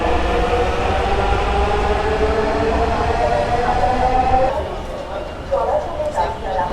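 A Dhaka metro rail train runs on the line toward Karwan Bazar. A loud, continuous rumble of wheels and motor comes from inside the car, with tonal whine layered over it, and it eases slightly near the end.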